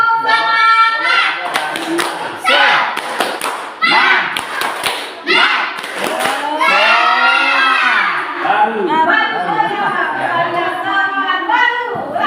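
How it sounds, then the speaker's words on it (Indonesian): A group of teachers at a school session does a rhythmic spirit clap in sharp, loud patterned bursts, then joins in a shouted chant with lively voices and cheering. "Kalau saya bilang tepuk semangat."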